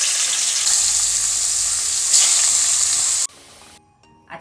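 Hot oil sizzling in a pan before cooking a fish curry with potato and eggplant, a loud continuous crackling hiss for about three seconds that then drops to a quieter fizz and fades.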